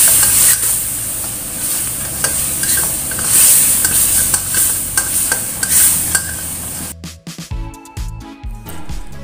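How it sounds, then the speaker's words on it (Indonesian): Seasoning and vegetables stir-frying in a pan while cooking white rice vermicelli, a steady close sizzle with scraping stirs, ending abruptly near the end into quieter clatter. "Jadi tumis-tumis dulu sebentar seperti ini ya."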